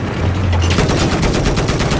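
Rapid bursts of gunfire in the Battlefield 4 video game during a tank battle, dense and continuous with loud, rattling shots filling the whole stretch and no talking.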